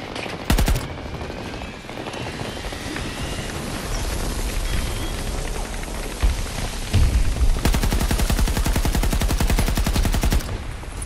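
Sustained automatic gunfire rattles through a Battlefield 2042 battle, loud rapid bursts that run nearly continuously, with a heavy extended volley near the end.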